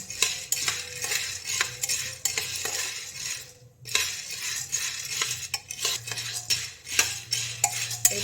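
Rama kalai beans stirred in a pan on a gas stove, with repeated scraping and clinking of a metal spoon against the pan over a light sizzle and a brief pause midway, close and without talking.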